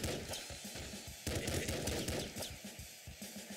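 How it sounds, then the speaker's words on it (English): Rapid bursts of assault rifle fire in the video game Nuclear Throne, a dense rattling stream of shots with a brief break partway through. "The assault rifle, I just can't get behind it because it feels like I'm wasting so much ammunition"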